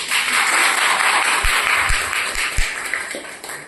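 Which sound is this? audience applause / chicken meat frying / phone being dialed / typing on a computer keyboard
audience applause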